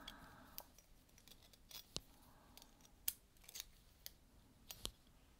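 Scissors making small snips while cutting out little paper leaves for a home decor project, a series of sharp, quiet clicks spaced irregularly with no talking.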